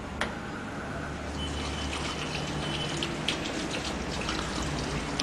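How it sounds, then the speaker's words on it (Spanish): Gasoline pours into the fuel tank of a fogger sprayer, a steady liquid trickle and splash running continuously at close range, with a few faint drips and clinks on top. "debemos procurar que la gasolina alcance hasta el nivel que indica dentro del tanque de la fumigadora"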